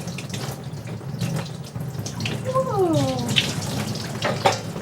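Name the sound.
running water rinsing a pet during bath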